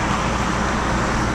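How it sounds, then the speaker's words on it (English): A car driving on the road, heard from inside as a steady, loud broadband roar of road and engine noise with no voices. "So yeah, I'm driving, obviously."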